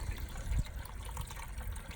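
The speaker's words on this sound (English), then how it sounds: "I want to put more water in it" Water from a hose pours into a DIY upward-flow pond gravel filter during cleaning, a steady, close trickling gush with a brief low splash near the start.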